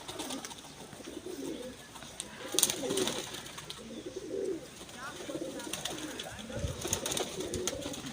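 Soft, repeated pigeon cooing in low murmuring phrases, faint and somewhat distant, over a steady outdoor background with a brief clatter.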